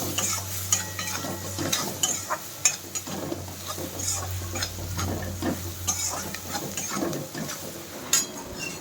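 A spoon scrapes and stirs suji upma with turmeric in a pan, producing repeated irregular scraping strokes over a soft sizzle, close and fairly clear.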